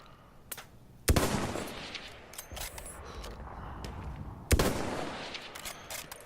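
Sharp rifle shots in Battlefield 1, two loud cracks about three seconds apart with a long rumbling tail, amid scattered fainter distant gunfire in a battlefield setting.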